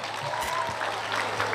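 Brief burst of audience applause for a vocational school, SMK Swadaya, at a school expo opening in Temanggung, a short dense patter of clapping from the crowd, fairly loud and continuous.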